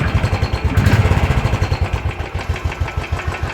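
A Royal Enfield Thunderbird 500 with its original exhaust idles close by, a steady thumping single-cylinder beat with a faint whistling tone riding over the pulses, loud and alone.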